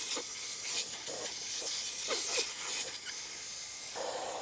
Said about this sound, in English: And then this is going to deflate to 19 PSI.